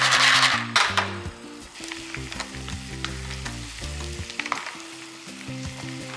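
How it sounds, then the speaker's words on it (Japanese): Clams sizzle as they fry in reduced-calorie butter in a pan, a steady close crackle with occasional stirring clinks and a bright hiss that flares loudest at the start. "バターで炒めていきたいと思います。"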